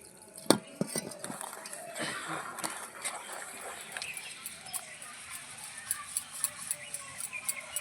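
Spoon stirring biscuit cake batter in a bowl, with quick clinks and scrapes against the bowl spread across the clip, moderately faint and close, over a light background hiss.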